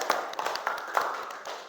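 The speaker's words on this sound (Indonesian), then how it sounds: "Tepuk tangan dulu." A classroom group claps together in a short burst of sharp, fairly quiet hand claps in an uneven rhythm, lasting under two seconds.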